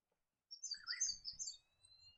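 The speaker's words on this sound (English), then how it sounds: "Another attractive bird of the New England region is the diamond firetail." Diamond firetail bird of the New England region giving a short run of high, thin chirping call notes with a longer drawn whistle at the end, clear and fairly close against silence.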